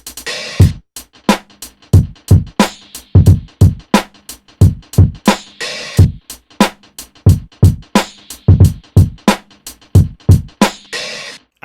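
Programmed drum pattern in a produced hit track, with punchy kicks and snares hitting in a steady, driving rhythm and bright hats ticking between them, loud and alone with no voices.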